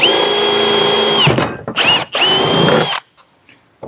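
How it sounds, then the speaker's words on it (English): A power drill whines loudly at high speed in bursts, drilling a hole in a tank, stopping and restarting, then winds down into quiet clatter. "So, and then just drill it out."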